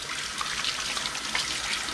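Tap water running steadily into a sink during a quick hand wash, a soft, even hiss with no talking.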